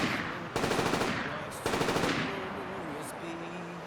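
Bursts of rapid automatic gunfire from the video game Mars War Logs, two loud rattling volleys close up, followed by trailing tonal game sounds.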